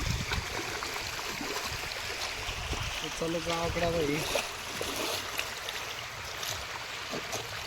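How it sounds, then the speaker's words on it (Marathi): Stream flooded after a cloudburst in Pimpri Dukri, Jalna district, rushing with a broad, continuous watery roar near the bank, as voices speak over the steady flow. "बघा मित्रांनो कसं ओढं वाहून चाललं"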